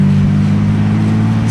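Naturally aspirated Ford Falcon XR6 accelerating in third gear at around 60 km/h, a loud steady low engine drone heard from inside the car, with no talk.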